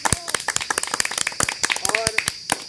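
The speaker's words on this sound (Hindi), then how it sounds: "इनके लिए तालियां हो जाए।" Crowd clapping for a runner at an outdoor one-minute race challenge, a dense burst of many hands applauding together throughout, with voices chattering underneath.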